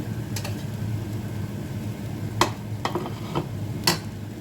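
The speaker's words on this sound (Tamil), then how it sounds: "இதையும் நல்லா மிக்ஸ் பண்ணுவோம்" Spatula scrapes and stirs Jaffna-style egg tomato rice in a pan, with a handful of sharp strokes spaced across a steady low sizzling hiss, close and moderately loud.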